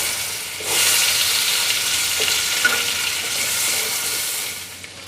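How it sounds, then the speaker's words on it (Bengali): Potato pieces fry in oil already used for fish, making a loud, dense, continuous hiss that swells after the first moment and holds steady close by, with only a few faint clicks and no voices. "এই একই তেলে আলুগুলো ভেজে নেব।"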